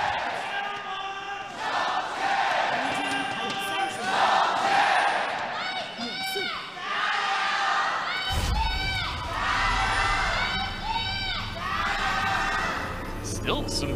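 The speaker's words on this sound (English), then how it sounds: "Still some very big volume from the Vici fans in the crowd" Vici Gaming fans roar and cheer in a packed esports arena crowd during an LPL Spring Split match against Snake Esports, loud and continuous with shouted chants and caster talk over it.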